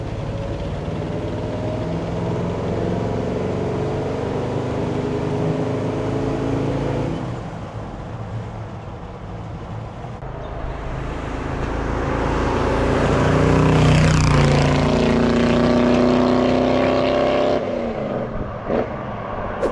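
A 1970 Chevrolet K10 pickup with a 383 cubic inch stroker engine drives along, its engine note dipping, then swelling as it downshifts into third, with rumbling road and exhaust noise throughout.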